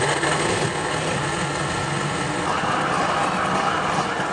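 A strong kitchen blender whirs steadily as it purees pineapple, a loud continuous motor roar with churning broadband noise that holds even throughout, no voices over it.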